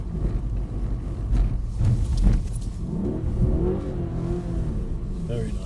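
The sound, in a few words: car revving and sliding on slippery silicone resin surface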